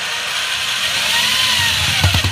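A cordless power drill runs steadily and loudly as it drives a screw through a toilet flange extender, a continuous close whir with a few knocks near the end.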